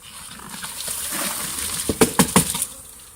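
A boxed swarm of bees is tipped and poured into a hive: a soft rustling, pattering rush builds up, then several close knocks and thumps land in quick succession near the end.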